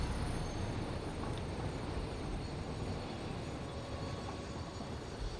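Trains in the Satisfactory video game braking, a steady broadband rumble and hiss of heavy rail cars that holds at a constant loud level throughout, with no voices.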